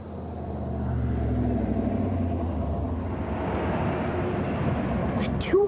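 A 285-horsepower V8 six-speed 1996 Chevy Camaro Z28 in a TV commercial, a loud steady low engine rumble building over several seconds, with a brief voice near the end.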